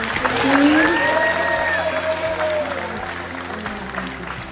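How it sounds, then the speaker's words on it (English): Applause for a high school volleyball team at an end-of-season celebration, sustained clapping from a gathered crowd with a whistle-like tone gliding over it, gradually tapering off. "Can we give one more round of applause for our amazing team?"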